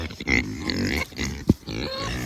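Farm pigs out in the snow grunting and oinking in short low bursts, close by, with one sharper squeal-like call partway through.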